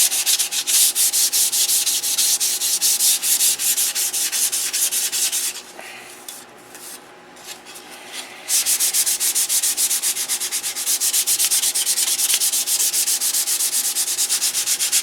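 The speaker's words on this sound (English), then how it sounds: "I guess we'll sand this up here too." Steady, close abrasive rubbing from sanding a wood build, continuing for several seconds, pausing briefly, then resuming at the same level.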